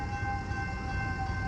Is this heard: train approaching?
yes